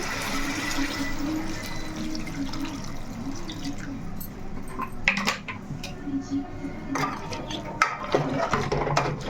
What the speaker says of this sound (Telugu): ఇప్పుడైతే వాటర్ అనేది యాడ్ చేసుకుందాము